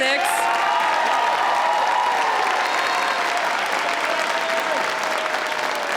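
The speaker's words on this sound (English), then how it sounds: "let's have a round of applause for the class of 2026" Sustained, dense applause from a ceremony crowd honoring the scholarship class of 2026 at an award ceremony fills the whole stretch at steady loudness, with a few faint whistles or cheers mixed in.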